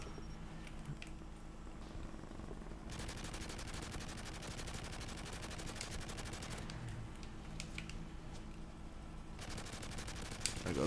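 Gunfire in Modern Warfare 3 Survival mode aimed at an AH6 helicopter, with long rapid automatic bursts rattling over a steady game rumble, pausing briefly between volleys.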